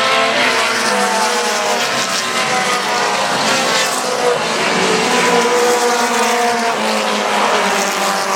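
Race cars roar around the Central Texas Speedway, including a Mustang and a car with a BMW body, in a steady loud engine drone with no break.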